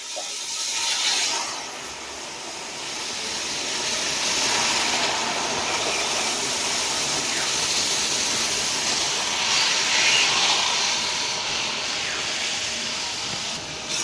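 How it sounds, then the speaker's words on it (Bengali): Milk is poured into hot caramel in a pan, bringing up a broad steady hiss of steam that swells after the first second and holds for many seconds, loud and close, with no talking. "আঁচটা বন্ধ করে দিয়ে দিচ্ছি দুধ।"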